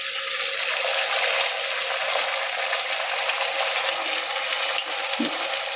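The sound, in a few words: coconut paste added to frying poppy-peanut paste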